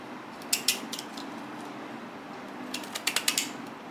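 Scissors snip open and shut in quick metallic clicks, a pair of cuts early and a rapid cluster near the end, close up over faint room noise.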